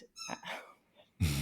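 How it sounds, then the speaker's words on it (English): A pet dog squeaks and whimpers in short high-pitched bursts close by, followed by a louder rough noise at the end, with no talking over it. "that's our dog squeaking right now."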